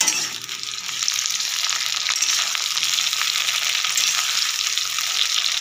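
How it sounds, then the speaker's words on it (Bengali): Onions and tomato frying in a pan, a close, steady sizzle with light stirring, no talk. "পেঁয়াজগুলো একটু ভাজা ভাজা হয়ে আসে"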